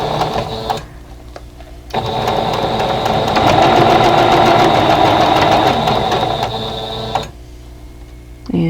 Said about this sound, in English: let's go ahead and sew this